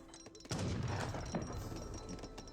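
Mortar fire in Age of Empires 3 raining on Inca priestesses, a dense rumbling barrage of booms and crashes starting abruptly and rolling on, moderately loud under game ambience.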